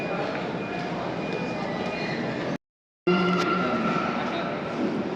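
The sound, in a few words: metro train at station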